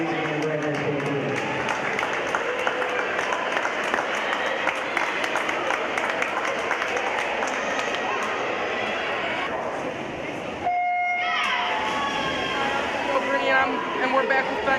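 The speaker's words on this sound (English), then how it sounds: "if we could have one more round of applause for all the seniors from both teams" A crowd at a high school girls' swim meet applauds the seniors from both teams, a dense steady wash of clapping in a reverberant pool hall, with a voice over the loudspeaker.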